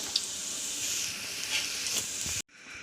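Onions sizzle and crackle in hot oil in a pan, a steady close frying hiss that cuts off abruptly near the end.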